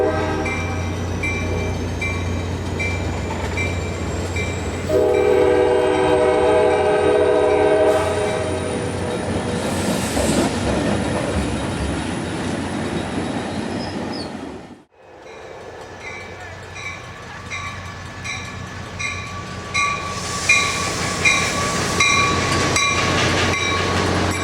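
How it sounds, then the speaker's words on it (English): An ACE commuter train pulls out of Stockton station near a Yosemite Avenue grade crossing, its horn sounding in sustained blasts over the rumble and rail clatter, a brief lull, then steady rolling noise with more horn as it gathers speed. "Train 3 leaves the platform on time at 5:53 a.m."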